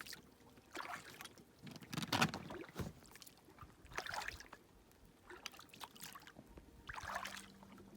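A kayak paddled on ocean water, with soft, quiet splashes and trickles as the paddle dips in a loose rhythm, several gentle strokes close by under faint background.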